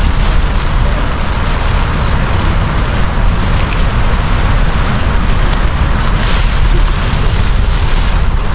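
Strong wind at a campsite in Malico, San Nicolas, Pangasinan roars and buffets steadily against the microphone, a dense rumbling blast that never lets up.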